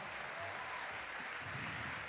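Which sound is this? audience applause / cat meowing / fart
audience applause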